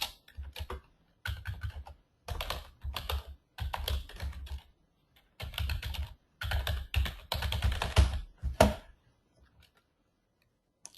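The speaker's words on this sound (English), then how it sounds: "I'm going to type in the chat right now." Fast typing on a computer keyboard, close and crisp, coming in uneven bursts of rapid keystrokes broken by short pauses over about eleven seconds, with no one speaking.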